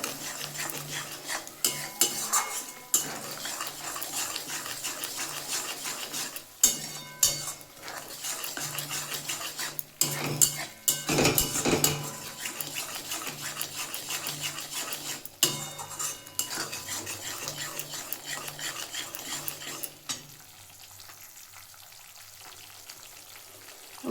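Spices with green and dried chillies and turmeric are stirred and sautéed in a pan: repeated metal scrapes and clinks over a soft sizzle, with a few louder knocks before things quieten near the end.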